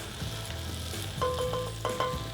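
Seafood stuffed shells sauce simmering in a pan, a soft steady sizzle with gentle bubbling, stirred now and then, with a few clinking utensil sounds partway through; no one speaks.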